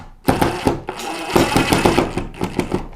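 A power screwdriver drives screws into an electrical outlet box in rapid, rattling bursts separated by brief pauses, close and fairly loud.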